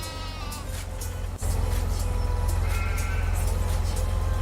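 A flock of sheep in the Farming Simulator 17 video game bleats over a steady engine-like drone, with several overlapping calls, close and fairly loud, and no talking.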